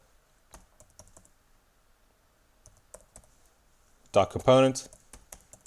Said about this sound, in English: we type in hero detail